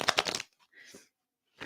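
A deck of cards shuffled for a Christmas reading on the back of a resting pet, two quick riffling bursts with a short quieter rustle between, close and clear with no talk.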